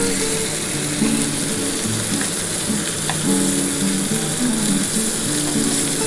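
Paneer tikka fries in a pan at home, giving a steady loud sizzle with small stirring and scraping clicks running through it and no talk.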